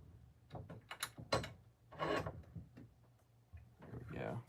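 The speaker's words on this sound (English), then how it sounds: "Just run these threads real fast." Threads on an HPI Savage 25 tower are run while the part is held in a vise, heard as quiet, uneven scraping and rasping strokes with small clicks and shifting handling noises.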